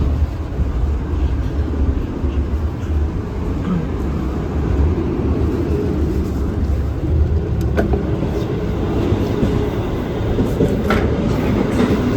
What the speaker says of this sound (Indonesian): Suasana di dalam kabin pas lampunya dimatiin seperti ini ya